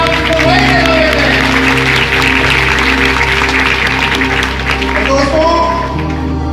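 Audience applause fills a university seminar hall, dense and steady throughout, with a sustained tonal hum and some voices mixed in.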